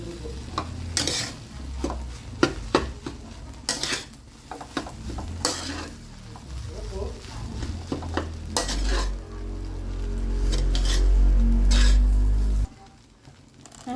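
Sinangag, Filipino garlic fried rice, sizzling in a pan while a utensil repeatedly stirs and scrapes it, with clinks of metal on the pan and a steady frying hiss building toward the end.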